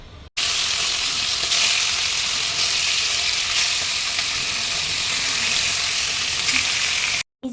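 Rohu fish frying in a pan, a loud, steady sizzle of hot oil crackling continuously from start to finish, close up, with no voices.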